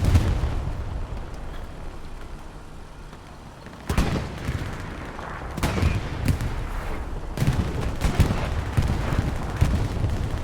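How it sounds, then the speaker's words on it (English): Video game battle with artillery, tank shots and grenades going off: a dense, continuous roar of gunfire, punctuated by sharper booming blasts that come more often in the second half. "Arty, tank shots, grenades. It's all happening."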